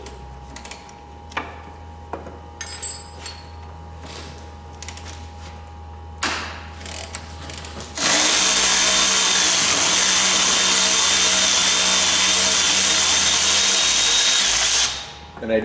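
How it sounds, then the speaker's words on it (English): Milwaukee ratchet loosening a nut on a 2004 Polaris Sportsman ATV during axle work, starting with scattered clicks and taps, then a loud, close, continuous motor whir for about seven seconds before stopping. "You can hand ratchet it first to break the nut loose."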